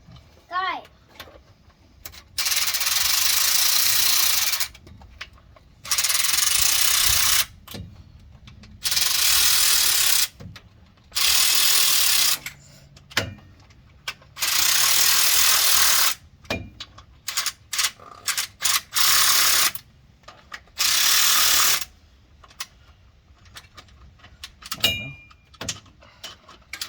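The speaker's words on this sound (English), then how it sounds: "I got the electric ratchet, and you're gonna do a little bit on each one" An electric ratchet tightens bolts a little at a time while fitting a transmission cooler on a 2018 Ram with a G56 six-speed, giving repeated loud whirring bursts of several seconds each, separated by quiet pauses, with a voice and a voice talking between bursts.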